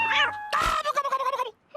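A cartoon cat gives two meows, a short one and then a longer warbling cry, loud and close with a brief gap between them.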